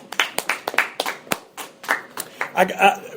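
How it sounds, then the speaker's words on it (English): A small group of college athletic trainers gives themselves a round of applause, sparse and uneven claps in short bursts, close by, with voices talking and laughing over them. "give yourselves a big round of applause"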